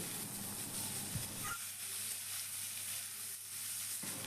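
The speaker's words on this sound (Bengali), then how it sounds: "পেঁয়াজটাকে হালকা হালকা আলুর সাথে ভেজে নিতে হবে" Chopped onion frying lightly with potatoes in a pan makes a quiet, even sizzle, with a brief stir near the start before it softens to a low hiss.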